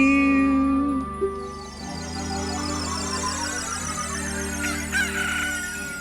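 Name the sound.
rooster crowing in Zelda Ocarina of Time video game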